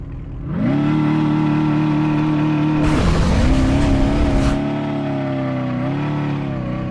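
A Dodge SRT Challenger Demon in the Drive World video game roars as it accelerates for a wheelie test, engine note rising then holding steady, with a brief harsh burst of noise midway, loud and alone.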